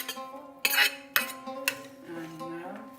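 Chunks of squash drop into a metal pot for a homemade vegetarian chili, three sharp clattering knocks spaced about half a second apart, then quieter handling.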